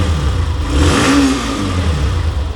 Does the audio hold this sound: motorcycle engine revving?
yes